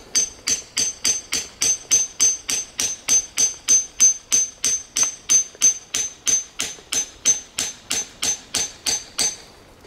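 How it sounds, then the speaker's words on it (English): Steady, evenly spaced metallic hammer strikes on a knife blade, about two or three per second, loud and close, with no talking. "Hammer this all the way in."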